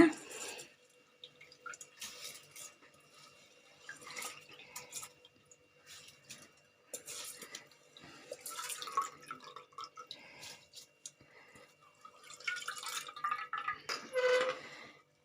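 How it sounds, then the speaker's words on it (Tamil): Water drips and trickles off washed rice as it drains, in scattered, faint little spatters with short quiet gaps between them. "அரிசிலேருந்து சுத்தமாக தண்ணிலாம் வடிகட்டிட்டேங்க நான்"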